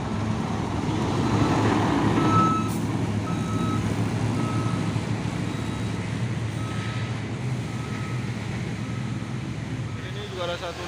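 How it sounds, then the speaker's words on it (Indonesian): A large UD trailer truck carrying heavy equipment rumbles steadily nearby with low engine drone, while a reversing beeper chirps repeatedly in the background and traffic noise fills the scene. "Ini juga ada satu nih truk trailer UD besar membawa alat berat"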